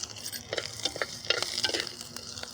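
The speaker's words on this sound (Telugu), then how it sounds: "పెద్దగా కట్ చేసుకున్న ఉల్లిపాయ ముక్కలను అయితే వేపుకుందాం." Large-cut onion pieces fry in a spoonful of oil for an onion masala curry, giving a steady soft sizzle broken by several scraping stirs of a spoon against the pan, close and moderately quiet.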